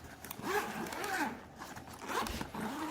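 A projector carrying case made of tough material is unzipped close up, several quick rasping zipper pulls with rising and falling whine, fairly quiet and uninterrupted by speech.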